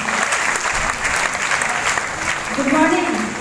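Audience at a DXN business gathering claps loudly and continuously, a dense crowd applause with a voice speaking over it near the end.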